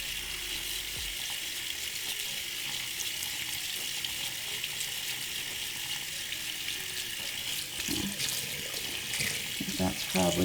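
Running tap water splashes steadily as a makeup brush, washed with Johnson's baby soap, is rinsed and worked under the stream, with a few louder sloshes toward the end.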